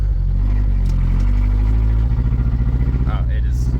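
A Ford Ranger pickup engine runs close and loud on a test drive, a steady low drone turning into a rough, pulsing chug about halfway through, with a voice briefly heard over it.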